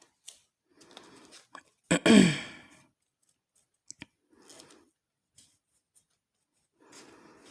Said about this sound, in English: So we're going to tape off that back side.